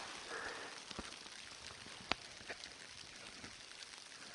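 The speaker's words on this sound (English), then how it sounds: "during the night it started raining" Rain patters on a tent overnight in Sequoia National Park, a soft continuous hiss broken by scattered sharper drop taps, one especially crisp, heard up close and quiet.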